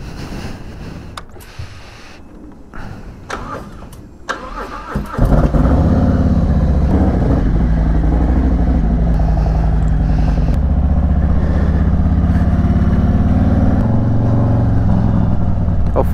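A Harley motorcycle cranks and catches after a few seconds of quiet shuffling, then settles into a loud, constant rumbling engine as it rides off.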